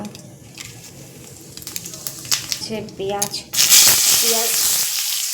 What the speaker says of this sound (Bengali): ফোড়নে দিয়ে দেব একটা তেজপাতা, একটা শুকনো লঙ্কা, গোটা কয়েক জিরে দিয়ে দেব।